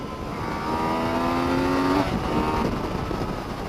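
A 2017 Yamaha FZ-09 three-cylinder motorcycle pulls hard in second gear on a California canyon road, its engine note rising in pitch, dipping briefly, then climbing again over wind noise.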